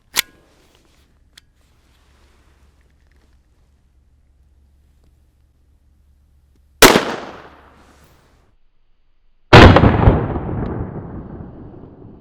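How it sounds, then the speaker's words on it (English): Shots from a KelTec P17 .22lr pistol into a bare gel block: a sharp report at the start, then two louder cracks several seconds apart, each ringing off with a decaying echo. "first shot into the bare gel block"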